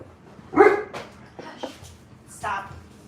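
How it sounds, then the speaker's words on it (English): A dog barks a few times close by during a gathering of handlers and their dogs, with loud, separated barks mixed with a person speaking. "You are the loudest bark out of all of these guys."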